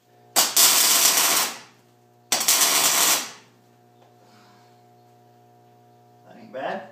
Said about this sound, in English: I'll just put a tack weld, spot weld right out here